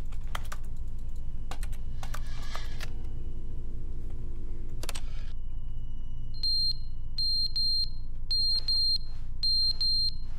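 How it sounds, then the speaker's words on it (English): Keyboard typing and clicks give way to a smoke alarm going off, sounding a rapid series of sharp, high-pitched beeps in clustered bursts. "Ah, my fire alarm's going off."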